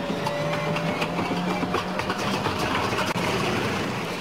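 A grounded Soviet Il-14 airliner running its piston engine during a maintenance check, a continuous droning roar with a steady tonal hum and rapid rhythmic pulsing, fairly close and without voices.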